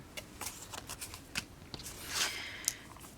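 Decorative paper is cut to size for a purse mini album, a series of faint, close snips and crisp papery rustles, with a slightly louder rasp partway through and no voice.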